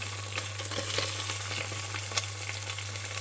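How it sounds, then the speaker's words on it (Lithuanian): Pieces of floured beef ham frying in a pan give off a soft, continuous sizzle and crackle, close but fairly quiet, with a steady low hum underneath and no talking. "Dedame sekančius mėsos gabaliukus ir kepsime iš abiejų pusių."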